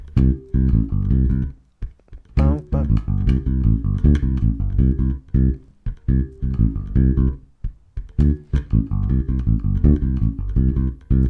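An 80s synth bass line played slowly, a loud sequence of deep, buzzy sustained notes in a steady plodding rhythm, with short gaps between phrases and no talking over it.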